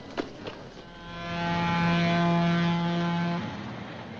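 A train departing a station in a 1955 comedy film, a rising, sustained mechanical drone with steady tonal whine that swells, holds, then fades, preceded by a couple of faint knocks.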